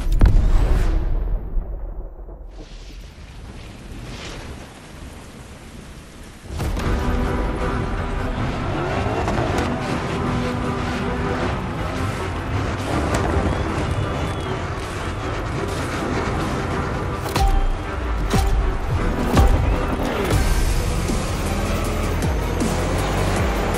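Car in The Crew Motorfest video game racing at very high speed through a storm, engine roaring loud and steady with rushing wind and impacts over a dense, continuous mix after a quieter opening few seconds.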